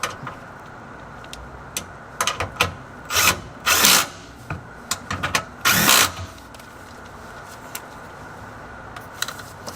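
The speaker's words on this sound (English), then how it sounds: "Start them by hand, and then we'll finish with the power tool here." Several short bursts of a power tool whirring as it tightens bolts on a Lexus LX570 during an oil change, separated by pauses, close by over a quiet background.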